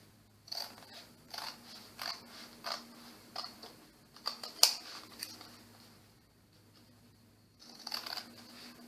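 Scissor blades snipping through old calendar paper in a series of close, crisp cuts with short pauses between them.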